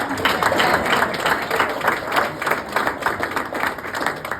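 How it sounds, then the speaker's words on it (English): An audience at a senior graduation banquet applauds the graduates, loud, sustained clapping from a full room, with some crowd noise mixed into the steady roar. "How about a round of applause, eh?"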